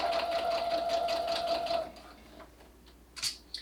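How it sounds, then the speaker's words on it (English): A sewing machine stitches a straight seam of elastic onto a fabric face cover, a fast rhythmic run lasting about two seconds, then stopping with a few faint clicks and handling noises. "We're just going to go straight down and keep sewing until we get to the end."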